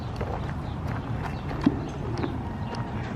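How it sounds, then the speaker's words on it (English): Horses on a tour stop in Los Angeles clip-clop with steady, moderately close hoofbeats in a loose walking rhythm, one sharper knock standing out midway. "Oh, the horses."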